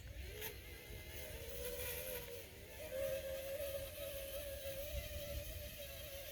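An Axial SCX6 RC truck with twin 570T motors whines steadily while rolling downhill under drag brake, its faint motor tone rising in pitch midway and holding, with no voices.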